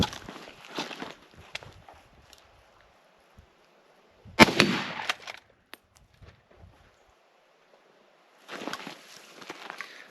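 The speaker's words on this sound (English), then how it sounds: "as soon as I shot, I racked the gun" A rifle shot during hunting practice on a caribou target rings out sharply in the open, followed by mechanical clatter as the gun is racked, with quieter rustling and footsteps before and after.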